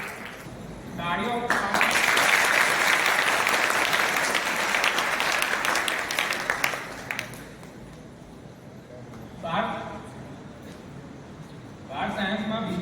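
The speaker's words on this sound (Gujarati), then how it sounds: "તાળીઓ." An audience claps at a school Teacher's Day ceremony for a science prize winner. Loud, sustained applause fades after several seconds, then a speaker's amplified voice returns twice over the quiet room.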